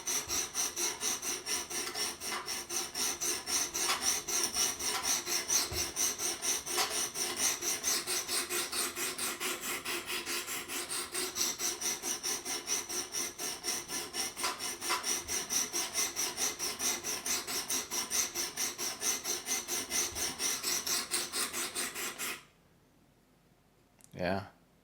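A sharpening stone hones the edge of a Spyderco Para 2 knife, a rapid, continuous rasping scrape of steady back-and-forth strokes for over twenty seconds before stopping abruptly.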